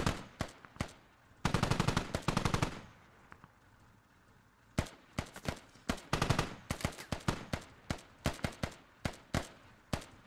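Machine gun fire in the military shooter Squad: short rapid bursts and scattered single shots crack out at medium distance, separated by quiet gaps, with the firing growing busier and more irregular toward the end.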